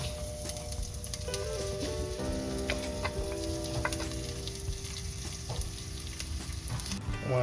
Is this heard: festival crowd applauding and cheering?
no